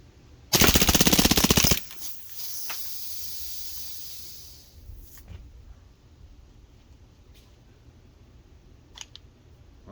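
A Crosman PFAM9B BB pistol fires a rapid full-auto burst, a loud rattling string of shots lasting about a second, followed by a hissing gas tail and a few scattered clicks in a quiet room.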